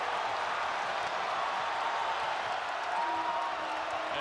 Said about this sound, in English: this crowd is alive in a very big way tonight at TNC